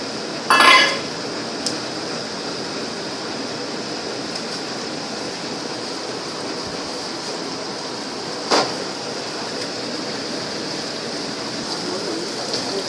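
Chinese sausage stir-frying in a pan, a steady hiss of sizzling fat running throughout with a couple of brief utensil clinks against the pan.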